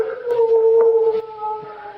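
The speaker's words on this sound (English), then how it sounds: "It was only one of the dogs." A dog howls in a radio drama, a sustained, wavering tonal wail that stays loud and close throughout, with faint knocks underneath.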